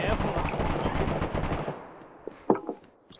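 Automatic gunfire in the video game DayZ: a rapid, sustained burst of shots for about two seconds, then a few scattered single shots, with a voice talking briefly.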